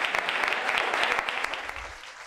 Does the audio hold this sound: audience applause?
yes